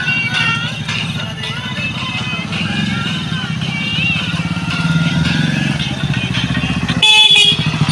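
A black Hero Splendor motorcycle rides along with a steady close engine drone, a horn blaring near the end and voices talking over it.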